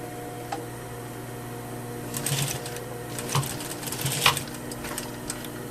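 A sewing machine tacks the ducktail of a double welt pocket with a flap, giving a few short, moderately loud stitching bursts over a steady low hum, with no talking.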